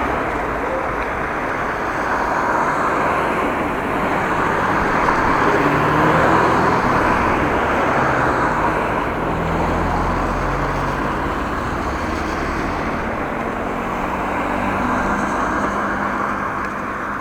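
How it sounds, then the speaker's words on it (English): Steady road traffic drones past near a bridge in the Dutch countryside while a cyclist waits, a continuous low rumble of cars and heavier vehicles that swells gently and eases off, with no one speaking. "A lot of cars. Let's stop for the traffic and wait until people are over the bridge."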